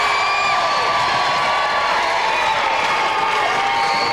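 A French television studio audience bursts into loud, dense applause mixed with cheers and whoops, sustained and close throughout, with no speech over it.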